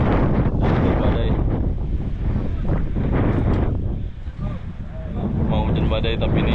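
Strong wind roars across a foggy mountain trail near the third post on the Selo route up Mount Merbabu, a continuous loud buffeting rush against the microphone that eases briefly before surging again.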